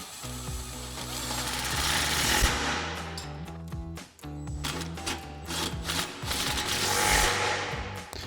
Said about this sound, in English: we're going to go ahead and tighten down our two 10 millimeter isolator bolts with our 10 millimeter swivel socket and extension on our impact